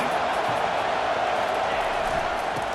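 A stadium crowd at Wisconsin roars without a break in a college football video game, a dense, loud wash of cheering as the defense faces a late fourth down against Akron.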